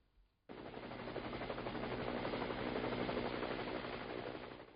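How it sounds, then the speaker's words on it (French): A steady, loud mechanical whirring and rapid chopping drone starts abruptly and continues throughout, like a helicopter's rotors close by. "L'hélicoptère au secours des pylônes électriques vieillissants"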